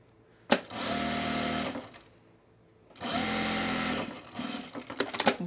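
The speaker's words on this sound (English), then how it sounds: "I'm gonna sew them to these ends next" A sewing machine stitching fabric for a baby bag runs in two steady whirring bursts of about a second and a half each, close and fairly loud, separated by a pause and followed by light handling clicks.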